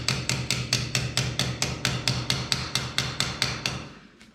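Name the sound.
hammering during shower screen glass installation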